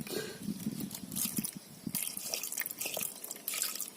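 Water is poured into a cooking pot while preparing pinaksiw fish in a Filipino kitchen, giving a steady splashing trickle with small drips over about four seconds. It sounds close and moderately loud, and nobody speaks over it.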